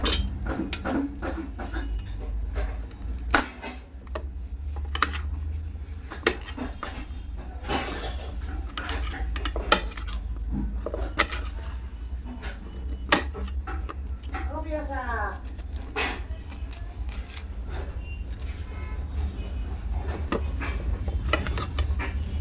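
A knife cuts young pumpkin into pieces in a home kitchen, making scattered crisp clicks and taps at an irregular pace beneath ongoing talk and low background hum.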